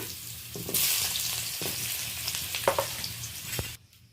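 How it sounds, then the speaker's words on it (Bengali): Potatoes and pointed gourd fry in hot oil with a dense, loud sizzle and occasional spatula scrapes, then the sizzling cuts off abruptly near the end. "এই পর্যায়ে আমি আলুটা ভেজে নেব আর পটলটা ভেজে নেব।"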